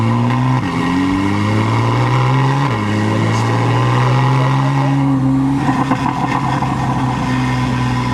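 Car engine with a very loud aftermarket-style exhaust, heard from inside during a drive, droning steadily and rising and falling in pitch as the driver accelerates and shifts, with no talk.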